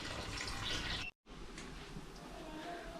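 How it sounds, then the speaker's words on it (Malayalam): Water poured steadily into a pot of fish head curry, with a continuous close gushing stream, broken by a sudden brief silence before resuming. "വീണ്ടും കുറച്ച് വെള്ളം ചേർക്കണം"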